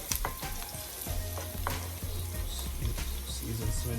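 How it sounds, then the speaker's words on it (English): Chicken Alfredo ingredients sautéing in a pot with a steady sizzle, while a utensil stirs them around and scrapes and taps the pot, close and fairly loud, no speech. "while they are sauteing, just kind of stir them around"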